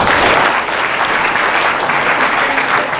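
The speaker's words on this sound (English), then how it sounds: "Give him a round of applause." Loud applause from an audience rises immediately and holds as a dense, even wash of clapping for about three seconds, with no talking over it.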